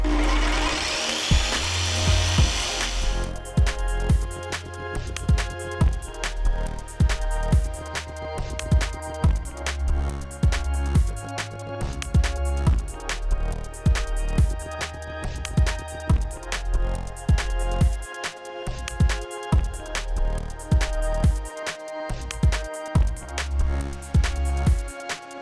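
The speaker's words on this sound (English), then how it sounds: "Cut that out perfectly with a jigsaw." A jigsaw cuts out a part for a homemade nail launcher, its blade buzzing in a steady rapid chatter with rhythmic load changes throughout, loud and close with no talking.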